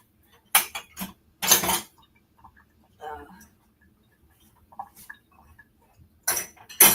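Dishes being washed and scrubbed in a home kitchen, with a few loud bursts of clattering cutlery and pots separated by quiet gaps, close by, and a little speech.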